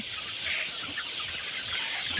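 Broiler chickens about fifty days old cluck and chatter softly in a poultry farm shed, a continuous low flock murmur with no single bird standing out.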